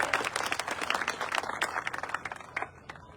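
A crowd at a welcome gathering applauds as a speaker is introduced: fairly quiet, crisp clapping that grows sparse and fades toward the end.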